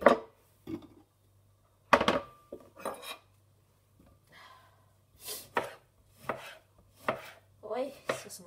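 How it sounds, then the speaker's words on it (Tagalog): A knife chops onions on a board in a home kitchen, a stir-fry of beef steak with pak choi under way, with irregular sharp close chops in bursts separated by short pauses over a faint low hum. "Sakit na akong mata sa paghiwa ng ano. Sibuyas."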